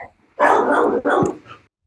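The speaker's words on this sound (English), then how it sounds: "The dog did not like my performance." A dog barks twice in close succession, loud and near, the two bursts almost running together and then stopping, with nothing else heard.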